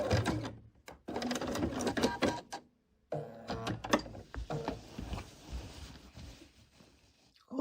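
A long arm quilting machine free-motion quilting placemats: fast mechanical stitching runs in bursts, stopping briefly around the three-second mark, then resuming in shorter, choppier runs, close and clear.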